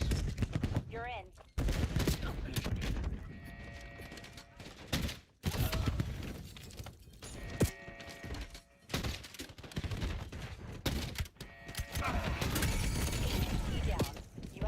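Gunfire bursts in the Black Ops 7 video game, loud, dense and repeated, from rapid crackling volleys to sharp single shots, with brief gaps, mixed with in-game sounds and voices talking over the action.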